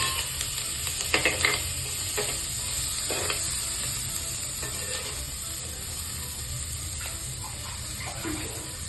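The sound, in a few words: chopped onions frying and being stirred in oil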